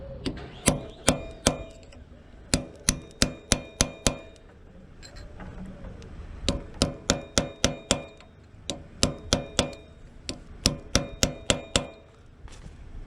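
A sharp chisel is hammered on a BSA Bantam D1 motorcycle gearbox, a series of loud, sharp metallic strikes in quick bursts of four to six blows with short pauses between, no voices.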